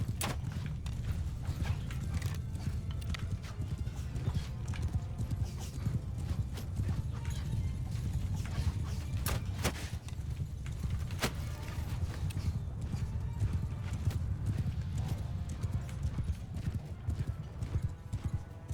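Horses in the video game Mount & Blade Bannerlord, with steady clip-clop hoofbeats pounding throughout, along with creaking gear, a whinny and sharp impacts during a cavalry charge, at moderate distance.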